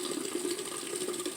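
Liquid is poured in a chemistry lab during aspirin (acetylsalicylic acid) synthesis: a steady, close, continuous watery trickle lasting the whole moment, alone with no voices.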